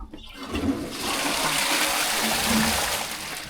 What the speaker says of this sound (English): Well, she seems to flush okay.